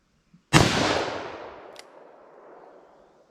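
A single sharp gunshot from a .44 Magnum or .357 Magnum revolver firing Underwood hard cast rounds cracks loudly outdoors, then rolls off in a long decaying echo with a faint click partway through.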